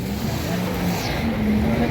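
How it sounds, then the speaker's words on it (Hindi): Busy street traffic in McLeod Ganj, a steady wash of engine rumble and passing vehicles with a faint horn-like tone, continuous and moderately loud throughout. "ट्रैफिक बहुत है यहाँ पे मैक्लोर में"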